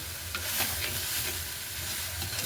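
Food is stirred in a pan to keep it from sticking, a continuous sizzle with scraping strokes, fairly close and without voices.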